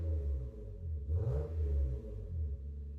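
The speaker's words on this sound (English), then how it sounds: "let's hear what this straight 6 sounds like with an exhaust" A Lexus GS with a non-turbo 2JZ-GE straight-six and aftermarket exhaust idles with a deep, smooth rumble, then blips briefly into a short rev before settling back to a low burble, close up.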